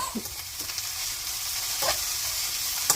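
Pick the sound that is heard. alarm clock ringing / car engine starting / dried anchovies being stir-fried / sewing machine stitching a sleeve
dried anchovies being stir-fried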